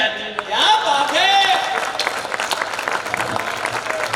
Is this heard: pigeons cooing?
no